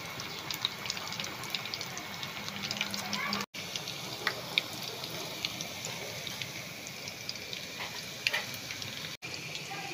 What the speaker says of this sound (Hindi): ऑयल गर्म हो गया है अच्छे तरीके से, अब मैं इसमें पकौड़े डालने शुरू करूँगी।